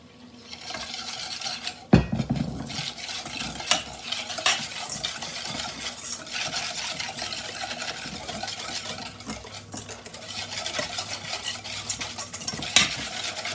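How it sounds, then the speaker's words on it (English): Water is whisked into a salt-and-pepper seasoned mixture in a home kitchen, a steady brisk metallic stirring and clinking in the bowl that runs close and continuous, with one sharper knock near the start. "Into this I whisk water."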